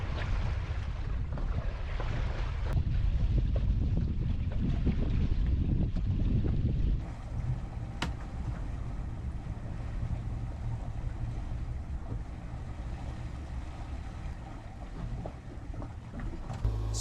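A Colvic Watson 25.6 motorsailer moves under sail, with continuous wind buffeting and water rushing along the hull, louder in the first seconds and then a steadier hiss.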